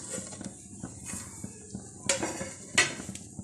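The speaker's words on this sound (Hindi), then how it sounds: "अब इसको ऊपर प्लेट रखेंगे और इसकी साइड चेंज कर लेंगे।" A plate clinks down over a keema omelette cooking in a pan, with two sharp ceramic-on-metal knocks above a low background, no talking.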